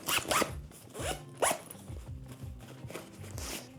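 Zipper on a Rework Toshi V2 sling bag pulled open and closed several times in quick close strokes, loud and smooth with faint rustling between pulls.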